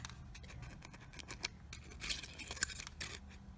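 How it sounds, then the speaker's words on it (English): Small, skinny scissors with sharp tips snip paper for a mixed-media seahorse craft, making quiet, close crisp cuts in an irregular run of short snips with soft rustling between them. "If you have little skinny sharp scissors that are sharp on the tips"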